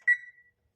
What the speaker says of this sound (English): now I'm gonna set the timer for 30 minutes.